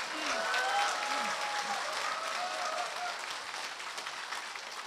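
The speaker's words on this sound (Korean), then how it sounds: "당원 여러분에게 격려의 박수 부탁드리겠습니다." A rally audience at a National Revolutionary Dividend Party event applauds party members in encouragement, a steady wash of clapping heard at a moderate distance throughout.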